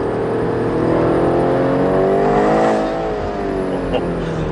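A BMW M8 Competition accelerates hard uphill in third gear, its engine note climbing in a loud, steady rising drone for several seconds before easing slightly, heard close and alone.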